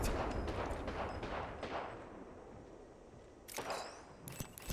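Gunfire in Apex Legends, a series of sharp, close shots in quick clusters, with a rapid flurry at the start, quieter gaps, then another burst of cracks near the end.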